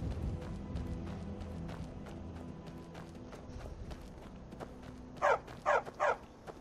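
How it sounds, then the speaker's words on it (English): A dog in The Elder Scrolls game barks three times in quick succession near the end, following a run of faint, evenly spaced tapping steps in a quiet scene. "He's still sitting there barking."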